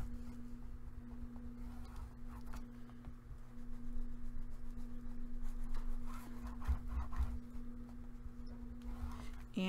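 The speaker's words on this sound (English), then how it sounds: "And then you burnish." Score tape and paper are burnished onto chipboard for a scrapbook album, a soft, quiet rubbing and scraping that continues in uneven strokes over a steady low background hum.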